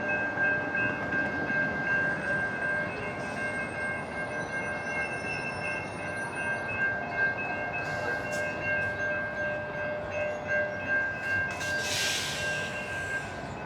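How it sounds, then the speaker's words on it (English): A train passes on the former Atlantic Coast Line railroad in downtown Orlando, Florida, with a steady rolling rumble, sustained horn-like tones throughout, and a brief hiss near the end. "So I see a railroad coming now."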